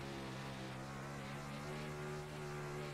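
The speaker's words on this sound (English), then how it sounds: "Letting you listen to the motor there for a second" Onboard a race car in a racing league, the engine drones steadily and closely with a thick, even tone and no breaks, running alone without talk.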